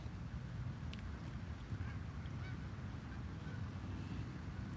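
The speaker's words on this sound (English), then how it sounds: "Here comes the night shift geese." Geese honk from some distance over a steady wind-like rumble near water where someone is fishing, a few calls rising above the background with no talk.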